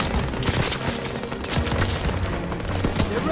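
World War 2 shooter battle gunfire, continuous rattling volleys and dull booms packed closely together at moderate loudness, a dense fusillade with no clear breaks across the short stretch.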